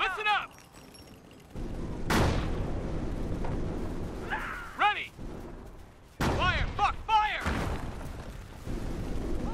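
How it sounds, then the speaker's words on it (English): Mortar and artillery fire in the video game Company of Heroes, with several heavy booms and blasts, some sharp, spread across the stretch amid battle noise and voices of units talking. "This is a mortar. You grab this mortar."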